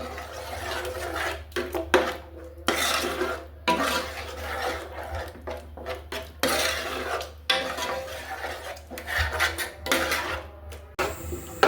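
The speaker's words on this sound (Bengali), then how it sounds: "আমি দইটা ভালো করে মিলিয়ে নিচ্ছি মশলার সাথে" A spoon stirs yogurt into spices in a pan off the heat while making beef kofta curry, repeated close scraping and clinking strokes in irregular bursts with short pauses between them.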